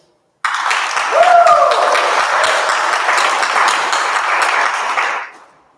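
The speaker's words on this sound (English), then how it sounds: "we're going to give a really big round of applause to our elders" A crowd at a sobriety celebration breaks into loud, sustained applause honoring elders, dense clapping that starts abruptly, holds strong for several seconds, then fades out.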